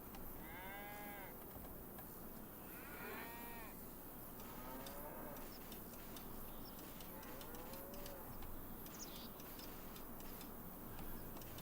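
Cattle on a Farming Simulator 25 farm low repeatedly, several separate moos rising and falling over a steady mechanical ticking and a constant hum of game ambience, with no talking.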